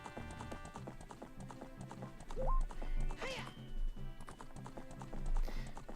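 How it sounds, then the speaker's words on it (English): Epona the horse in Ocarina of Time, rhythmic clip-clop hoofbeats of a gallop with a whinnying neigh, under a steady game music backdrop. "And now I've got a horse."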